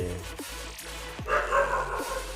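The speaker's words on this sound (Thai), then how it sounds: "โอ้หมาเห่า" A dog barks a few short times over a low electronic drone and game-like tones, with brief yips spaced across the moment and no speech over it.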